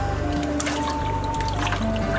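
Scad fish being rinsed clean under running water, a close, continuous trickle and splash with bits of dripping and shifting tones as the fish are handled, with no talking.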